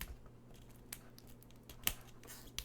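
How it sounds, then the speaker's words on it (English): Scissors cut open the plastic wrap on a Marvel Villainous Mischief & Malice expansion box, giving a few quiet, sparse snips and clicks, with one sharper cut near the end. "I'm using scissors because I'm lazy"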